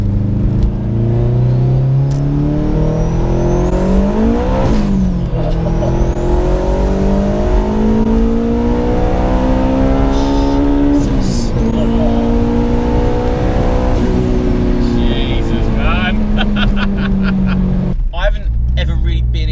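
A turbocharged 426 bhp K20-engined Honda Civic MB6 revs hard through rising gear pulls, with a turbo whistle climbing over the drone and brief dips at each shift, steady and loud throughout.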